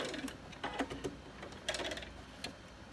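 A sewing machine back stitches a fabric hair scrunchie in short, quiet bursts of rapid mechanical ticking, with brief pauses between runs.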